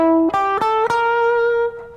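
Distorted electric guitar playing a blues I chord with the added seventh: a few picked notes stacked in quick succession into a sustained, buzzy chord that rings alone before fading at the end.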